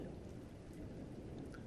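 Thunderstorm with steady rain falling and a low rumble of thunder, a faint, continuous wash of sound with no voices.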